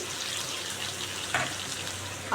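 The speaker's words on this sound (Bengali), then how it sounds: "এখন এগুলো ভাজবো ভালো করে" Sweet potatoes with cumin seeds and green chilies fry in a pan with a soft, steady sizzle, broken by a brief clink near the middle and another at the end.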